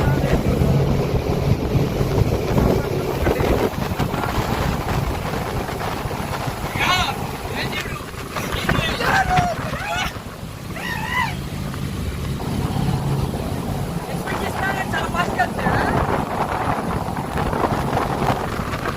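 A boat crossing the sea to Waiheke Island drones with a steady engine rumble and rushing wind and water noise throughout, while voices talk faintly in the background midway.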